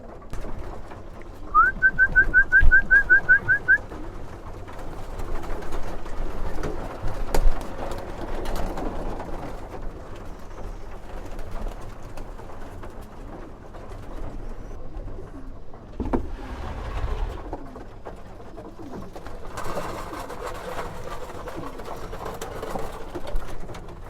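Pigeons coo close by in a loft while a handler feeds them; a short run of soft repeated calls comes early, then low murmuring and rustling continue without speech.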